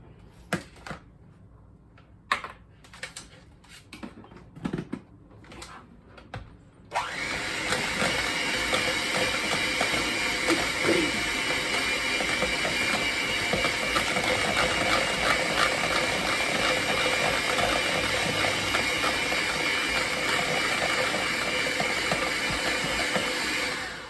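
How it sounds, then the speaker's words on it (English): A hand mixer whirs through cheesecake filling, with a few sparse knocks first, then a loud continuous motor drone that starts abruptly and holds steady to the end. "a hand mixer is going to really mix that up nicely for us"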